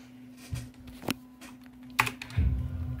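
Typing on a Vata Pro computer keyboard: a few irregular keystrokes and clacks, close and moderately loud, with a low steady hum underneath and no speech.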